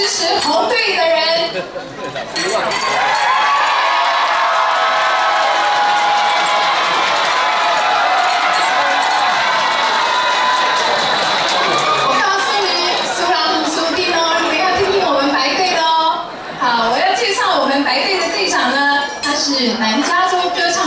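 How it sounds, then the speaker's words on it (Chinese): Red team supporters cheer and shout together as a loud, lively crowd, many voices overlapping continuously with a few brief dips. "我们用这个鼓励拉拉队的声音来看看他们的阵容雄不雄壮"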